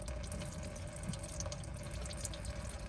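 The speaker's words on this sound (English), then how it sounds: "antifreeze will start coming down" Antifreeze trickles from the left-side radiator drain of a 2008 Mazda 3 into a catch pan, a steady low watery patter with faint dripping, continuous and close, no voices.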